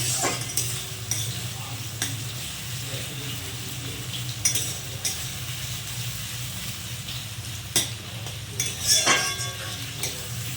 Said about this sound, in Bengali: এখন পেঁয়াজ ভাজা হয়ে গেছে